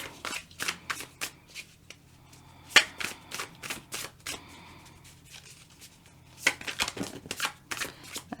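Tarot cards shuffled in bursts during a 2023 Leo zodiac reading, a series of crisp riffling rustles and snaps with a few sharper slaps, close and fairly quiet, with no talking.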